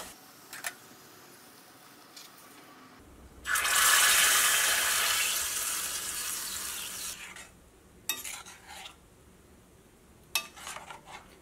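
Hot tadka poured into a thick okra curry gives a sudden loud sizzle that swells, holds for a few seconds, then fades, followed by a few soft clinks of utensils in a quiet kitchen.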